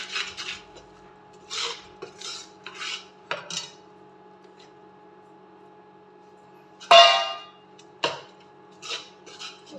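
A metal spoon stirs gram flour in desi ghee in a pan for besan laddoos. Sharp scrapes and clinks come in irregular strokes over a quiet background, with one louder scrape near the end.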